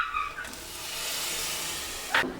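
A tomato dropped into hot oil for crab gravy makes a steady, bright hiss that swells and holds for about two seconds before cutting off.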